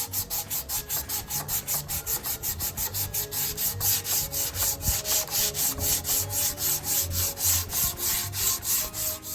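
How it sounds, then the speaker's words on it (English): Wooden bar stool legs are rubbed with 80 grit sandpaper in quick, even back-and-forth strokes, a loud rhythmic rasp repeating about three times a second with no talk. "I still used the 80 grit sandpaper, but for the legs I didn't need to sand down to the bare wood"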